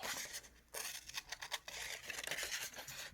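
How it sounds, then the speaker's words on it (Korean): Scissors snip through paper to cut out a drawn bird, a close, quiet run of crisp slicing strokes with short pauses between cuts, and no voice. "자, 그럼 친구들 가위를 가지고 이 친구를 잘라주세요"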